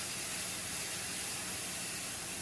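A steady, unbroken hiss of steam released slowly and continuously, faint and even throughout with no bursts or pauses.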